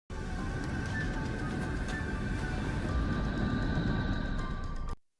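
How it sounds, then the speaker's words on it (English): Sonified space recording presented as Neptune: a steady, dense rumbling drone with faint sustained tones, constant in level throughout and cutting off abruptly at the end. "This is Neptune's business."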